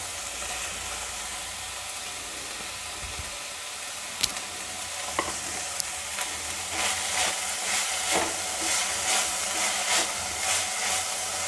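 Sprouted moth bean curry with turmeric sizzles and fries steadily in a pan, with soft scraping stir strokes growing more frequent toward the end; no talking.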